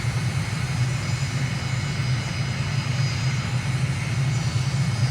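A fixed-wing aircraft engine in a flight simulator game drones at a steady, throttled-back level on approach, a loud, even hum with no change in pitch and no voices.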